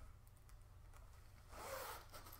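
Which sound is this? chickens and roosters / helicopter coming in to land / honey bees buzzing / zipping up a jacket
zipping up a jacket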